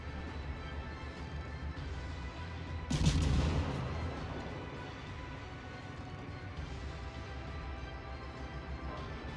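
A single heavy naval gunshot boom from the Italian cruiser Raimondo Montecuccoli in World of Warships bursts out midway, its rumble fading over a second or two against a steady background drone.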